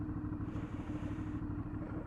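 An Aprilia Shiver 750 motorcycle's 750 cc V-twin engine runs steadily up close, a throbbing low rumble with a faint mechanical clatter, alone without speech.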